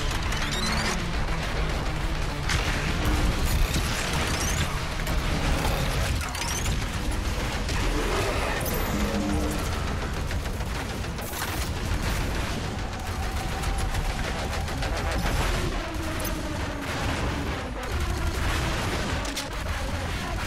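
Railgun blasts and heavy gunfire tear through a fight against demons in the video game Doom Eternal, dense and continuous, with crashes and booms piling up across the whole stretch and no let-up.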